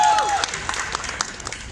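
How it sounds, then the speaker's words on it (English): An audience applauds and claps for a dancer on stage at a talent audition in a Bangalore mall, a dense, continuous crowd clapping mixed with voices. "I'm going to stand up and clap for you."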